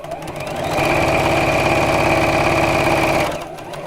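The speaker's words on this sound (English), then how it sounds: "I'm just going to quilt it, which I don't think will take very long on this machine" A sewing machine quilting fabric whirs up to a steady, fast stitching run for a few seconds, a rhythmic mechanical hum close by that then slows and stops.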